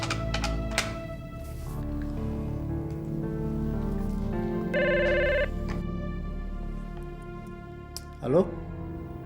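A telephone rings in a short burst partway through, set against steady background music in an Indonesian TV drama scene.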